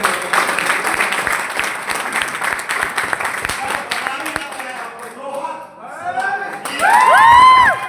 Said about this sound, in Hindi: एक बार लोहा जी के लिए ताली